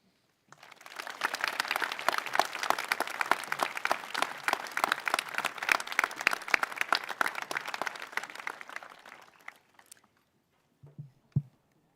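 Applause from a high school commencement audience for the class of 2023 student speakers starts abruptly, holds as dense clapping for about nine seconds, then fades, followed by a couple of faint bumps.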